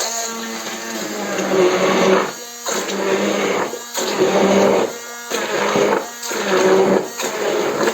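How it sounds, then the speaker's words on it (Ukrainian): A blender blending plums whirs loudly in repeated bursts of about a second each, separated by short pauses, close and without any talk. "Так я буду збивати блендером."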